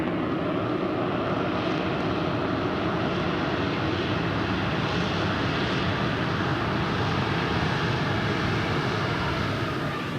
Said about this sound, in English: Listen to it. It's actually not as loud as other big planes.